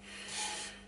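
A hand rubs across the raised grain of a big walnut bowl coated in sanding sealer, giving one short, soft, close dry rasping swell that rises and fades within a second.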